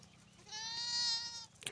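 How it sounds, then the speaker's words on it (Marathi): A Nari Suvarna lamb on a sheep farm gives a single drawn-out bleat lasting about a second, clear and fairly close, over a quiet low background hum. "इकडे नारी सुवर्ण मेंढीच पिल्लू"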